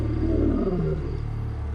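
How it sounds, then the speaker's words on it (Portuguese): A lion roars out in the African bush, with a deep, rumbling call swelling and then fading over a couple of seconds. The roar is heard alone, with no voices present. "O rugido dele era dos mais estranhos e incríveis de todos os leões."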